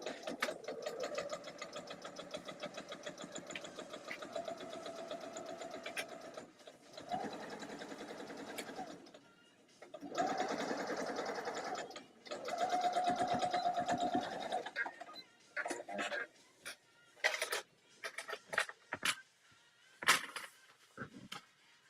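A sewing machine stitches bulky seams in bursts of rapid, whirring runs, first long and steady, then shorter start-stop spurts near the end, heard close and fairly quiet.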